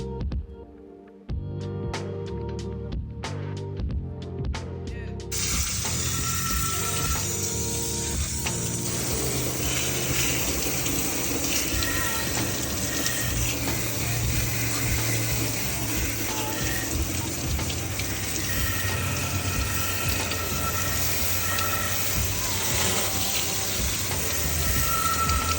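Cleaner sprayed onto LS engine parts while removing the harmonic balancer: a steady, close, loud hiss that runs almost unbroken after a few short mechanical clicks at the start.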